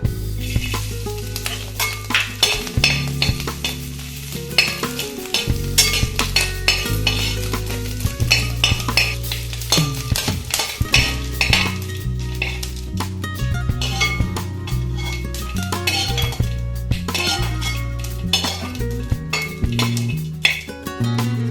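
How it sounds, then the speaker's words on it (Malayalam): Grated coconut roasting in ghee in an uruli pan for jackfruit payasam, heard as a continuous close sizzle broken by frequent scraping and clinking of a metal spoon against the pan. "തേങ്ങ വറുത്തെടുക്കാം."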